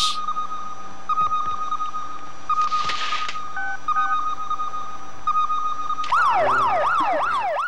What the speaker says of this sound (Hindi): ये फायर ब्रिगेड की आवाज है।